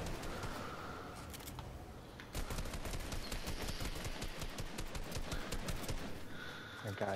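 Fortnite gunfire from the game: rapid bursts of automatic shots rattle fast and fairly steady through most of the span after a quieter opening, with occasional other game effects.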